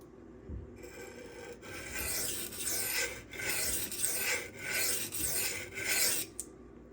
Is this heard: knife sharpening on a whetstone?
yes